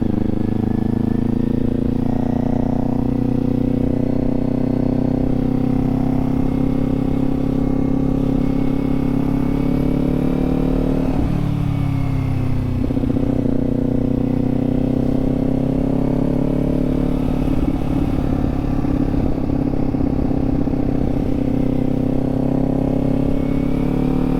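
Motorcycle engine running steadily while riding through a residential neighborhood, engine braking with a droning hum that dips briefly midway as gears shift down, continuous and close throughout.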